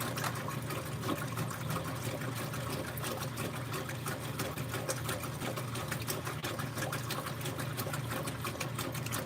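A Whirlpool direct drive top-loading washing machine churns a load of colors, water sloshing and splashing in a steady, continuous rhythm under a constant motor hum, close and unbroken.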